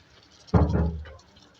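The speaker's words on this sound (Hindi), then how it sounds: "अगर आपको लगता है थोड़ा सा पानी डालना चाहिए" Water is poured into a pan of arvi curry cooking with turmeric and chopped green chillies, a short splashing gush that starts abruptly and fades over about half a second.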